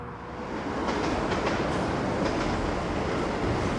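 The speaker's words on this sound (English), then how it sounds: "we just saw a train go past" A train rushes past a level crossing at Portway Park & Ride, a loud close continuous roar of wheels and rails swelling in the first second and holding steady, with faint clicks over the noise and no talking.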